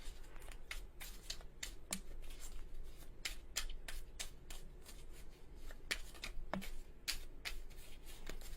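Tarot cards being shuffled by hand: repeated quick riffling and sharp flicking snaps in irregular bursts, close and fairly quiet, with no talking.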